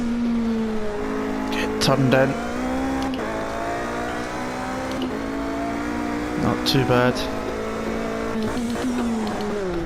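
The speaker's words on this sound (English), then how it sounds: "I'm going to drop it to 6 just to keep the revs high and keep the acceleration good." Toyota TS050 Hybrid race car on track, its engine whining loudly and continuously with rising and shifting pitch as it accelerates and downshifts through corners, a driver talking briefly over it.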